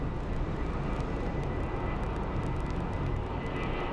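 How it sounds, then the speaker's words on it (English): An American Airlines Airbus jet taxis at Phoenix Sky Harbor International Airport, its engines giving a steady, loud, broadband roar that holds evenly throughout with no talk over it. "So we have an American Airlines 737 that's taxiing."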